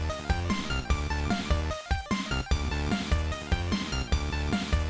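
An NES-style chiptune track plays with bright square-wave melody, added stereo parts and beefed-up punchy drums, a steady rhythmic loop with a brief dropout in the middle.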